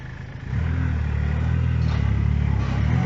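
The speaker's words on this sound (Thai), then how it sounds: "เราได้ รถไถมาปรับหน้าดินให้แล้ว" A tractor leveling the topsoil on a school's grounds runs with a steady, close, low engine drone that swells after the first half second and holds there; no one speaks.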